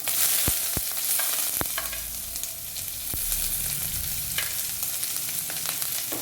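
Half an onion fries in hot oil with dried red chillies in a pan for dal fry, a dense, close, continuous sizzle broken by a few sharp clicks and spoon knocks against the pan.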